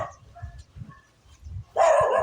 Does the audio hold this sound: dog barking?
yes